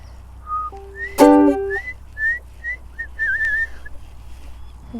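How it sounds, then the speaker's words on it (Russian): Person whistling a melody outdoors in a field, short clear tuneful phrases rising and falling, with a brief ukulele strum near the start, close and fairly loud against quiet surroundings. "Пожалуй, я просто продолжу свистеть,"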